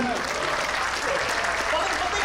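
Church congregation clapping during a sermon, a dense continuous roar of applause mixed with voices, steady and loud throughout.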